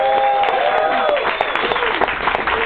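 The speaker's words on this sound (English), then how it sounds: "Can we have a round of applause for everyone that read tonight?" Audience applause for the readers at a literary reading event, a steady wash of many hands clapping with some crowd voices mixed in, fairly close and filling the whole moment.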